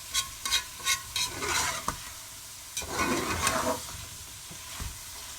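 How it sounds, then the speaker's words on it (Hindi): Chicken frying and being stirred in a pan for a home-style kaddu chicken, with scraping clinks of a spoon over a steady sizzle, close and moderately loud, no talking. "चिकन इंतहाई शानदार तरीके से इस टाइम भून चुका है।"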